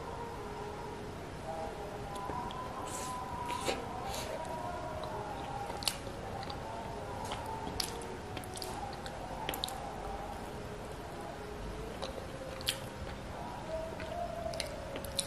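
Semolina idli with sambhar bitten and chewed close to the mic: soft wet squishes and smacking clicks in a steady rhythm, with no speech over it.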